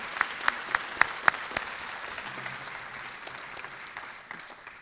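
An audience applauds at a university gathering, with dense steady clapping and a few sharp, close claps standing out at the start.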